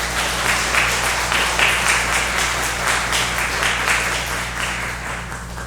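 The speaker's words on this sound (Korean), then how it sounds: "이 시간 한번 박수 한번 하도록 하겠습니다" A church congregation at a Korean Methodist Sunday service in Manila applauds the choir: a dense, steady wash of many hands clapping that fades slightly toward the end.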